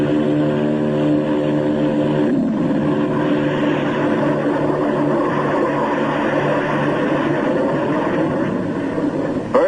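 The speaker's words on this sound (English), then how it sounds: "In the critical 10 seconds at takeoff, they give the kick-up of 2 added engines." A propeller plane takes off in the Antarctic in 1947, boosted by JATO rocket bottles. Its engines drone loud and steady throughout, with a harsher roaring surge coming in partway through.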